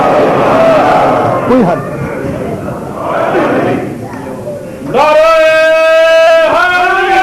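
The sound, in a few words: congregation loudly reciting salawat in unison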